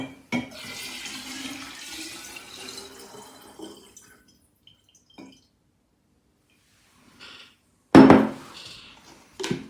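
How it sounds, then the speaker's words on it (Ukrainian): Brief splashes of water being poured into alcohol, separated by quiet gaps, with a louder pour near the end. "Додаємо спирту воду."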